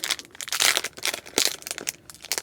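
Close, continuous crinkling and rustling of a plastic bag, crackling in quick irregular bursts.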